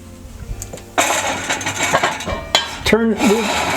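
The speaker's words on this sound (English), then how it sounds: "take our Dutch ovens and get them preheating in the oven" Heavy cast-iron Dutch ovens being lifted and set into an oven for preheating before baking bread, heard as a series of close metallic clanks, scrapes and thuds, loudest around the middle and end.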